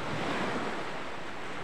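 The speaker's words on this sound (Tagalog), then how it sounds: "nandito po tayo sa baybaying dagat" Steady roar of ocean waves washing onto a seashore on the coast of Quezon, continuous broadband surf with some wind buffeting the microphone, no voices.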